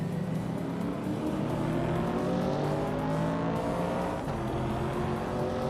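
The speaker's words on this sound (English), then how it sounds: "Beyond Two Dark Souls is driving a 1970 Pontiac Firebird, starting in pole position." A 1970 Pontiac Firebird racing in a video game, its engine droning steadily and loudly with rising harmonic whine as it accelerates through gears, continuous throughout with a slight dip near the end.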